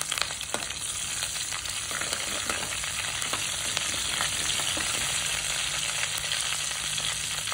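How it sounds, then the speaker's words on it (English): Urad dal, curry leaves and green chillies sizzle in a hot pan of tadka as they are stirred, a steady close crackle with faint scraping and no voices. "Give it a stir for a minute."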